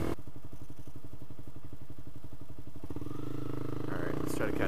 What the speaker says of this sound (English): Ooh, motorcycle.